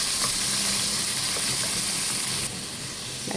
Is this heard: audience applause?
no